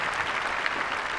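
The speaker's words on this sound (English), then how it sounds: "Let's give them a great big round of applause." A crowd at a women's tennis tournament applauds in a steady, dense burst of clapping, full and even throughout with no voices over it.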